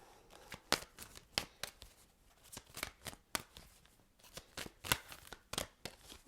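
Tarot cards being shuffled by hand, a run of quick crisp riffling bursts at an uneven rhythm, close and fairly quiet, with no talking.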